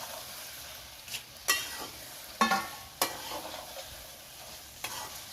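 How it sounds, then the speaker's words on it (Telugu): Washed chicken goes into a pan of hot oil and gets stirred, producing soft frying under a few sharp, separate scrapes and clanks of a utensil against the pan, close and quiet. "ముందుగా కడిగి పెట్టుకున్న చికెన్ ఇందులో వేసుకోవాలి. వేసుకొని బాగా కలుపుకోవాలి."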